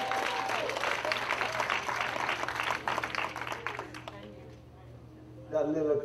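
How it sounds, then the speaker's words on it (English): Audience applause rings out at a church sermon, full and steady for a few seconds before thinning and fading, then a voice speaks briefly at the end. "That little applause for 52 years"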